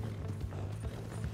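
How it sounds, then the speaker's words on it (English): Horse hooves clip-clopping in Red Dead Redemption 2 during a chase, a steady galloping thud under a low rumbling bed of game ambience, continuous and mid-distance. "Come on, horsey."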